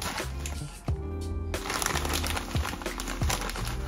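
Plastic packaging on a self-watering planter pot is cut and opened with clippers, giving repeated close crinkling and crackling with a few sharper snips.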